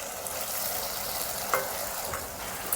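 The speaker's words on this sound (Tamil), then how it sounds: "இந்த பச்சை வாடை போகிற வரையும் வதக்கிக்கிடுவோம்" Ground shallot paste sautéing in hot oil for a village-style eel fish curry, a steady close sizzle broken by a few brief clinks from stirring.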